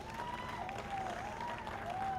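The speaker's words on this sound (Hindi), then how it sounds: "एक बार इन सब के लिए जोरदार तालियां हो जाए।" A crowd applauding the Mahakumbh star cast at a television show launch, steady dense clapping throughout with a faint wavering tone over it and no break.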